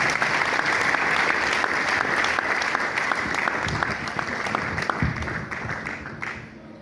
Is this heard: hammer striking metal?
no